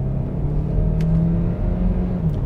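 Hyundai Tucson engine with a 6-speed gearbox in paddle-shift mode, a steady close low rumble and hum that rises slightly in pitch as revs build, with no clear break from a gear change.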